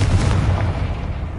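Confringo fire spell blast cast in the video game Hogwarts Legacy, a loud booming explosion with a heavy low rumble that rolls on through the whole short moment.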